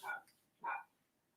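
Dog barking indoors, two short, fairly faint barks about half a second apart, from some distance away, followed by quiet.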